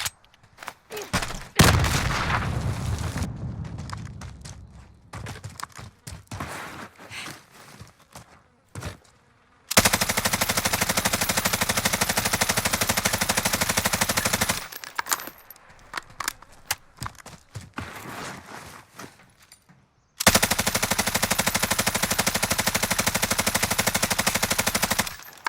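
Bruen Mk9 automatic fire in a video game private match: two long, sustained full-auto bursts, plus earlier scattered shorter bursts and single shots, all loud and close with no talk over them.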